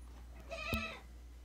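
A goat that has got out of its pen gives a single short bleat, faint and fairly close, in an otherwise quiet spot.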